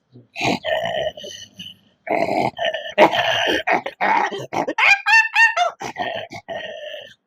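A voice imitates two dogs fighting, with rapid growls, snarls and yelps tumbling over each other, loud and close, with brief pauses between bursts.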